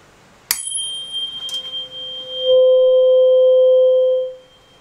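A higher-pitched tuning fork, compared against a lower C at 256 Hz, sounds after a sharp strike and a second tap, then rings as a loud, steady pure tone for about two seconds before stopping.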